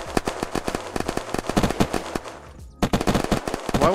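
Rapid automatic rifle gunfire in the Unturned survival video game, loud, dense bursts of close shots rattling almost continuously, with a brief pause before another fast volley.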